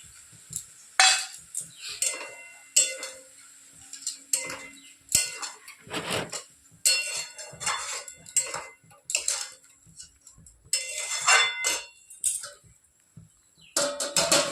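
Metal utensils clinking and scraping against a pot while spiced meat with chilli, cumin, turmeric, salt and ginger-garlic paste cooks in a village kitchen; sharp, irregular clanks and taps with quiet gaps between, close by and without talk.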